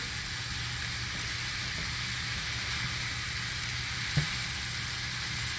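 Zucchini noodles with roasted tomatoes frying in a pan give an even, continuous close sizzle that barely changes. A single soft knock comes near the end, with no voices over it.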